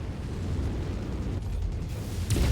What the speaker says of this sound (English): Kaboom! Incoming missile.